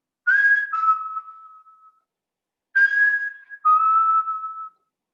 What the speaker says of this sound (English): that sound was not just a whistle